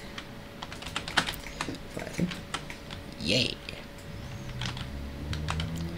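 Rapid clicking of computer keyboard keys while playing the flying game Superflight, close and steady, with brief excited speech and faint game sounds underneath.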